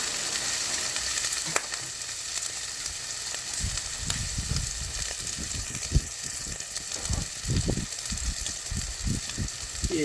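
Hamburger patties fry in a hot pan with a steady, close sizzle throughout, broken by intermittent low scraping and stirring knocks.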